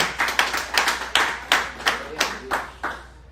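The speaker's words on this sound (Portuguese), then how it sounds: "Você pode aplaudir ao Senhor" A church congregation claps together in an even, steady rhythm, about three sharp claps per second. The claps are close and distinct, then fade at the end.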